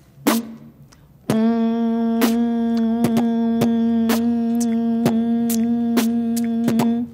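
A beatboxer hums a steady sustained note while punctuating it with vocal bass drum kicks and sharp snare hits in a regular rhythm, all produced by voice imitating a drum kit, close and clear with no talk.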